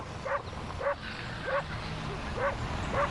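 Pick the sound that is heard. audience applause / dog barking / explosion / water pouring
dog barking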